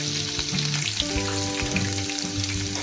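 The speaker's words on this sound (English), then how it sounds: "add ginger garlic paste and cook it for 1 minute until the raw smell disappears" Ginger garlic paste frying in hot oil, a loud, continuous sizzle and crackle close by, with occasional stirring scrapes and a steady tonal hum beneath, no voices present.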